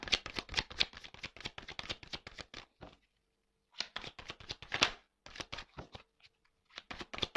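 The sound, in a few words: cutting and shuffling a deck of cards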